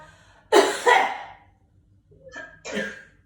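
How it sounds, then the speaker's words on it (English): Two loud coughs from a participant on a video call during a beginner Pilates class, a sharp double burst followed by a quieter, shorter cough a moment later. "somebody's got a very loud cough that overdid the mute"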